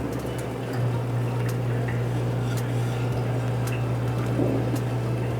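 Chicken dumplings slip into a pot of boiling broth in a home kitchen, a steady bubbling simmer joined by a constant low hum, with soft plops and splashes scattered throughout and no talking.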